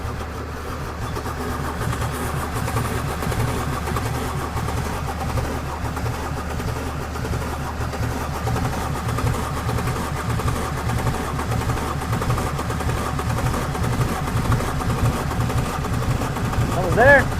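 An old abandoned diesel Mercedes engine cranks and struggles to fire, a continuous rough, rattling churn held at steady loudness throughout, close by.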